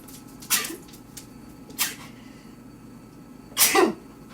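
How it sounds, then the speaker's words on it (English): A person sneezes three times, each a sharp, close burst, with the last the loudest and longest, against a quiet room. "I'm gonna sneeze"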